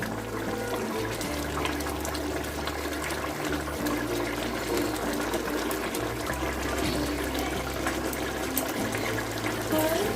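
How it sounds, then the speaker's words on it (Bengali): Boal fish kalia, a Bengali fish curry with potatoes, boils uncovered over a high gas flame. A steady, dense bubbling rush fills the clip, loud and close, with a low tonal hum running underneath. "গ্যাসের ফ্লেমটাকে হাইতে দিয়ে আমি ভালো করে ফুটিয়ে নেবো"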